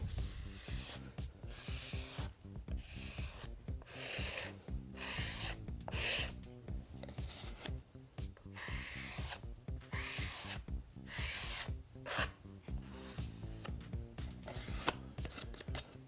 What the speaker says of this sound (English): You can just scrape off the excess.